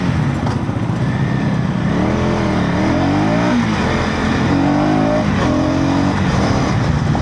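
A 2025 KTM Duke 250 motorcycle engine pulling hard on the road, loud and close, its pitch climbing and dropping through repeated gear shifts over steady wind rush.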